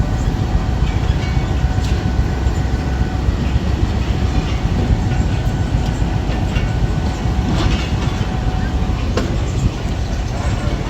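A train at Lahore Railway Station rolls and clatters steadily nearby, with a loud continuous rumble and wheel noise while someone talks over it.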